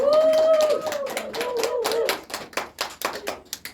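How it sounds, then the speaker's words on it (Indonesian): Students in a classroom give a short round of hand clapping, a few dozen distinct claps that start amid a brief tone and taper into scattered, separate slaps. "Tepuk tangannya untuk semua yang sudah menjawab"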